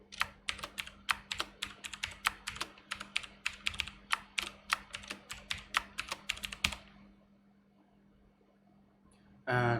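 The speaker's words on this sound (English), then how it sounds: "if anyone can recognize the password with just the keystrokes" Password being typed on a computer keyboard during a manual Arch Linux install on a retro Pentium 4 machine, a close, quick, uneven run of crisp key clicks that stops abruptly, followed by quiet and a brief noise at the end.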